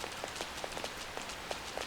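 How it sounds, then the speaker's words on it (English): Steady rain falls in the video game Persona 5 Royal, a dense even patter with small droplet ticks scattered throughout, fairly quiet and heard alone. "actually it's raining out, so I can't go to Chihaya"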